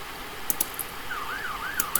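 Ambulance siren from a vehicle in the Roblox Brookhaven game, a rising and falling wail that sets in partway through over a quiet background, with a few sharp clicks, and no talk.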